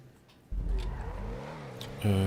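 Formula 1 car engine in a racing video game revs up after a quiet start, holding a buzzing, shifting engine tone before a louder, sharper burst of revving at the end.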